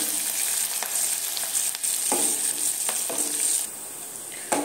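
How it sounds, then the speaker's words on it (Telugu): Curry leaves and dried red chillies fry in hot oil for a tempering, giving a steady close sizzle with occasional stirring scrapes, no voices. "కరివేపాకు, ఎండుమిర్చి వేసుకున్నామండి. వీటిని బాగా బ్రౌన్ కలర్ వచ్చేంత వరకు పోపు వేయించుకున్నామండి."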